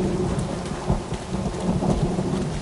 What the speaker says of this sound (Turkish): Güneşli bir günde yağmur var.